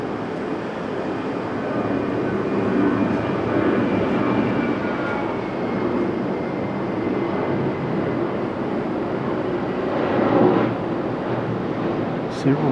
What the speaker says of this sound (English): Several fighters flying over the top actually.